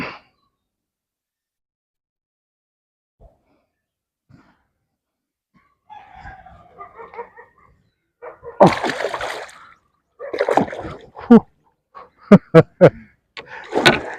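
A freshly caught 3 kg wallago catfish thrashes in the water while being handled. After a long near-silent stretch, a few close, sharp splashing bursts follow in quick succession.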